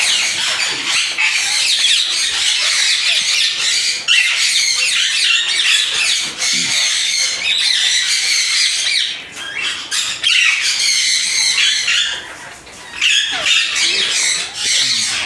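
Breeding-aviary birds, including yellow pairs, keep up loud, rapid squawking and chattering in dense overlapping bursts, with brief lulls before the noisy flock picks up again.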